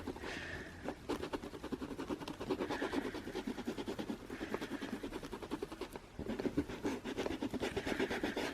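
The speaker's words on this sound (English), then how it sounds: "I'm just rubbing a few gentle circles." Gentle circular rubbing on a Dooney and Bourke handbag to lift stains, a soft continuous scratchy friction with a regular back-and-forth rhythm, close and quiet.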